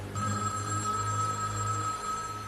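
A telephone rings with a steady electronic bell tone that holds continuously at moderate volume, heard alone in a quiet room.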